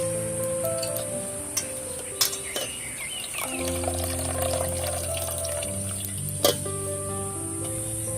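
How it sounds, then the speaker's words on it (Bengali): Water runs and splashes as fresh chhana cheese curds are rinsed by hand to wash out the lemon used to split the milk, in a Bengali village kitchen. The flow is steady throughout, with a few sharper splashes and a low tonal hum underneath. "এবার আমি ছানাটাকে ভালো করে ধুয়ে নেব, লেবুর গন্ধটা যেন না থাকে।"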